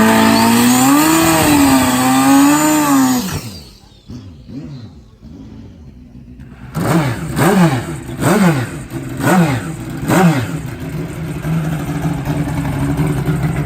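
A pro mod drag racing engine at Darlington Dragway, loud and close: first a sustained high-pitched drone, then a short lull before it fires up and revs in a series of sharp rising blips, settling back to a steady idle.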